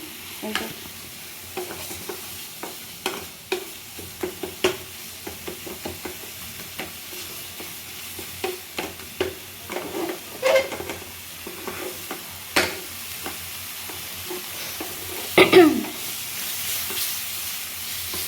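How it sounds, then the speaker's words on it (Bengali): Crab masala sizzles and fries in an oiled pan over raised heat, with repeated scraping stirs and clinks of the spatula at an irregular rhythm, close and fairly quiet, with no one talking. "নেড়ে নিয়ে ভালো করে মিক্স করে নেব।"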